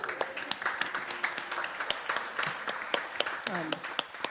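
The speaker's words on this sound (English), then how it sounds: "Give yourselves a round of applause." Audience at a school governing board meeting applauding, sustained clapping from a room full of people with individual sharp claps prominent and some voices murmuring underneath.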